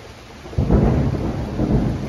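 Thunder from a close lightning strike in a severe thunderstorm with heavy rain, a sudden loud low rumble that breaks over a steady hiss of rainfall and rolls on.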